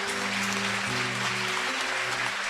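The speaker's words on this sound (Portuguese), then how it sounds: "um homem desse merece ser aplaudido, não merece?" Steady applause from a church congregation during a sermon, moderately loud, with low sustained organ or keyboard tones running beneath it.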